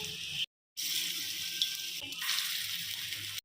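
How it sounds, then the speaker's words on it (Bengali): Chicken pakoras fry in oil in a pan over a low gas flame, giving a steady close sizzle that cuts out briefly near the start and then carries on evenly. "গ্যাসের ফ্লেম একদম লো রেখে সব পকোড়াগুলো ভেজে নিচ্ছি"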